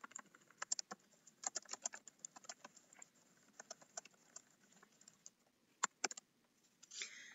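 Fingers type on a computer keyboard in quick, irregular bursts of faint clicks, with short pauses between runs of keystrokes and no talking.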